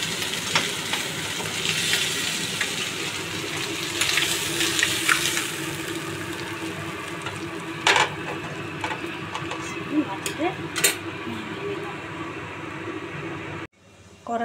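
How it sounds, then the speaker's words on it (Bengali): Tangra fish frying in hot oil in a pan sizzle continuously and loudly up close, with occasional stirring clatters and sharp clicks of utensils in a home kitchen, until the sound cuts off at the end. "প্রথমে ট্যাংরা মাছগুলো মোটামুটি লাল লাল করে ভাজা হয়ে গেছে।"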